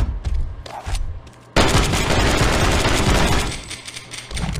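Rifle volley in the co-op shooter Dead Horizon, with scattered shots at first and then a loud, dense burst of continuous gunfire that runs about three seconds before easing off.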